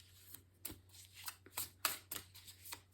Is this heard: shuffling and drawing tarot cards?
yes